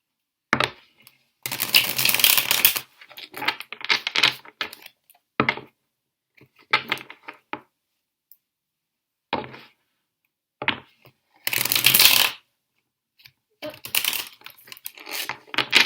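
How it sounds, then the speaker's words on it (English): Tarot cards are shuffled in three bursts, with crisp riffling and slapping at close range between quiet pauses and scattered small taps. "I'm going to take the cards and I'm going to shuffle 3 times"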